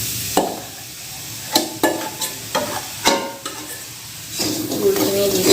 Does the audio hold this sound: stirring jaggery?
yes